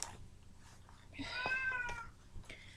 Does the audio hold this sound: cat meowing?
yes